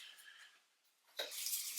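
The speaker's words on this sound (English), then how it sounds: "We're going to get a cup of water." Cold water runs from a tap, softly at first, then a louder rush as it fills a cup, bright and splashy near the end.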